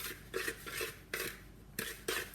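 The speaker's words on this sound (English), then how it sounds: "And I'm going to carefully stir around my sugar." A spoon stirring sugar in a bowl, a few quick scraping swishes in bursts with faint clinks, close and quiet.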